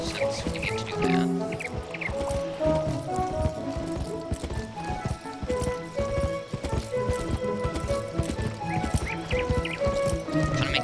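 Steady clip-clop of hooves from a running horse in a video game, continuous and fairly close, layered with game music and effects and no voices.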